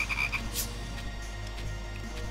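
Frogs croaking in the Touhou Youyou Kengeki Musou game, several rhythmic croaks near the start over a steady low game background, followed by softer ambience with no talking.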